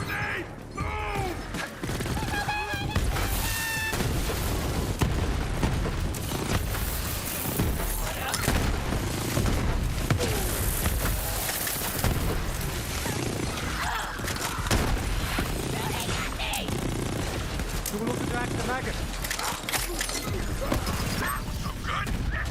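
Borderlands 3 combat erupts in dense grenade blasts, booming impacts and rapid gunfire, with clanking mechanical effects layered throughout; game voices shout over the chaotic, loud mix.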